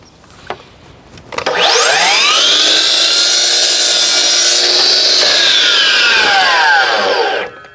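A power saw blade cuts through a skirting board in one continuous loud, close whine lasting several seconds, then winds down, after a brief motor start.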